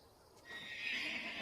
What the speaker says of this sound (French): Les chevaux ont été nourris.